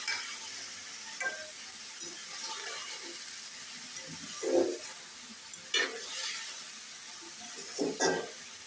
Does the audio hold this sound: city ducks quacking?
no